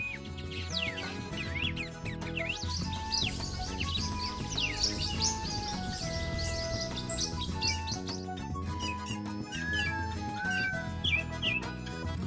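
Tuim parrotlets calling at a feeder and water station at Sítio Pau Preto in the Caatinga, a dense chorus of rapid high chirps and twitters overlapping nearby, with other birds calling in the background.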